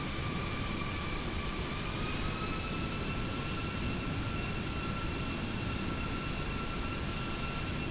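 Boeing 737 jet engines taxiing in a flight simulator game, a steady droning whine with faint high tones that holds evenly at moderate level throughout, with no talk.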